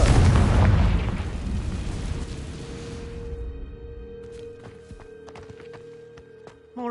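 A Confringo blasting curse detonates in Hogwarts Legacy with a loud, close, booming explosion that rumbles and slowly fades over about three seconds, leaving a quiet room tone with small scattered knocks.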